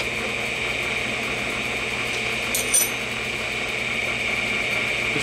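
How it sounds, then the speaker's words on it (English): An old, much-reworked small wood lathe for miniature turning spins with a steady, close mechanical whine and hum that holds evenly throughout, with a brief rattle near the middle and no talking. "So I'll speed up the lathe here a little bit."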